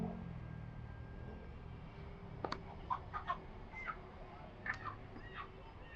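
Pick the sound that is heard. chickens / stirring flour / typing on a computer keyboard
chickens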